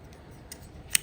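Scissors snip off a strand of crochet yarn in a quiet room, a faint click followed by one sharp, crisp cut near the end.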